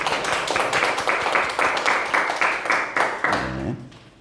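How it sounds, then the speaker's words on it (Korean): A church congregation at a Sunday service claps in welcome for a pastor, a dense burst of applause that fades out over a few seconds and gives way to a voice at the end. "우리 홍 목사님 환영의 박수 하겠습니다"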